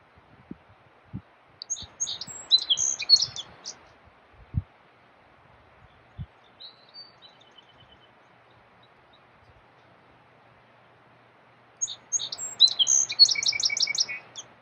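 Birds counter-calling in a Vermont backyard in the morning at the start of breeding season, bright chirping phrases, one burst near the start and another near the end, separated by quiet stretches.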